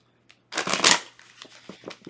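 Tarot cards are shuffled by hand in a dense, close riffle of papery flutters and snaps, then a few quieter scattered card slaps and taps trail off.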